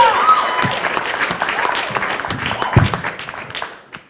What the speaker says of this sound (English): you guys give a warm round of applause for Terri Trespicio